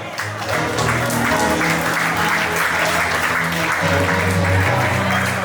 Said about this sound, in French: nous allons applaudir très fort pour le pasteur Hulot